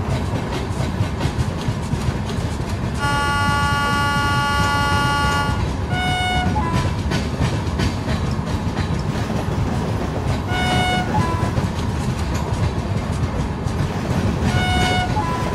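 A WAP7 electric locomotive in the Trainz Simulator game runs on the Himachal route with a continuous rumbling roll, sounding its horn in long and short blasts partway through.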